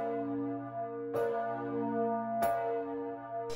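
Massive church bell weighing over 4.5 tons, known as the Eight O'Clock bell, struck three times at a steady slow pace, each deep strike blooming into a long humming resonance that overlaps the next.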